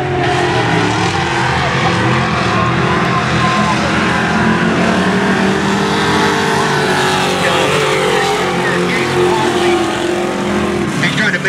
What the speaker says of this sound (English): He's trying to make his way up and take that second place position away from Rod.